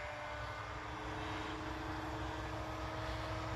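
A 6S Goblin 570 three-blade RC helicopter flying overhead gives a steady, even whine and whir of rotor and motor, moderately distant and continuous, with no talk.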